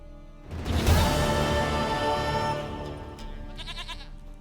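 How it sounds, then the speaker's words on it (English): A goat bleats loudly in The Witcher 3, a single drawn-out wavering cry near the start that tapers off, followed by faint higher chiming game sounds. "Goat of mine, dearest, sweetest goat."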